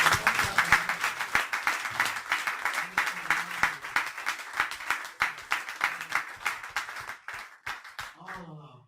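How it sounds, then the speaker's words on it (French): A church congregation in Brazzaville claps together to acclaim the Lord, a steady, rhythmic beat of unison handclaps that quickens slightly and then trails off, with faint voices underneath. "On va acclamer le Seigneur, c'est magnifique."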